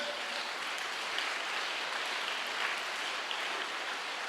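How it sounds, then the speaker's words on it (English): A school audience applauds its teachers at an Independence Day celebration, a steady, fairly faint wash of many hands clapping that holds evenly from start to finish without a break. "Shall we give a big round of applause for all the teachers?"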